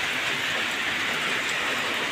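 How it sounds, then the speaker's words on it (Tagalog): Heavy storm rain pours down at a backyard pig farm, a dense, even hiss of drops drumming on surfaces, loud and unbroken throughout. "grabe ulan"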